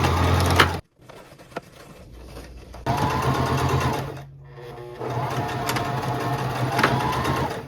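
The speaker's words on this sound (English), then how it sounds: "So I'm gonna gather as I sew, and I'm just gonna keep scrunching it together to get it as tight as possible up here at the top of the shoulder." A sewing machine gathering fabric at the shoulder of a top, its motor whirring close in runs of stitching broken by a brief stop and a louder restart.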